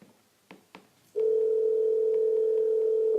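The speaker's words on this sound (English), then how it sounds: "I can hear the phone ringing" A telephone line on a live radio call: two brief clicks, then a steady, loud continuous tone like a dial or ringing signal that holds unbroken for about two seconds.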